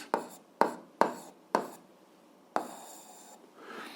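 Someone handwrites an algebra expression, likely chalk or pen on a board, in four short sharp strokes at a steady rhythm, then one longer scraping stroke, all close and fairly quiet with no talking.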